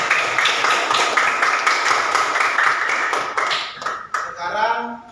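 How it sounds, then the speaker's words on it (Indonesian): Students in a classroom clap together for a presenting group, a busy, close patter of many hands that fades unevenly over the last second as a voice begins speaking. "Sebelumnya beri tepuk tangan dulu."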